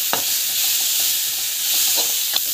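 Bitter gourd and tomato fry in salted oil in a pan, giving a steady close sizzle with a few soft stirring scrapes and clicks throughout.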